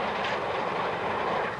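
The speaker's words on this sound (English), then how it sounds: "It's just fun going on the steam trains." A steam-hauled railtour train, the 532, rolls along the rails with a steady rumbling drone heard from inside a carriage, moderately quiet and continuous.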